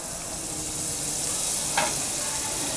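Meat sizzles in a pan over medium heat. The frying hiss is steady and close, with a brief scrape of stirring partway through.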